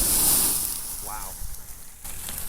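Water poured onto a burning grease fire in a pan, giving a loud broadband sizzling rush that swells and fades over a couple of seconds, with a brief bubbling burst in the middle.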